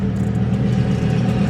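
A Lamborghini SVJ sports car rumbles nearby with a steady low engine growl that stays loud and even through the short moment.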